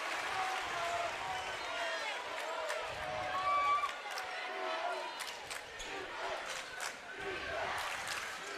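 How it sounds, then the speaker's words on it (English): A basketball crowd roars steadily through a tight Elite 8 playoff game in the final minute, a dense sustained cheer with sneaker squeaks and a commentator talking over it. "Listen to this crowd."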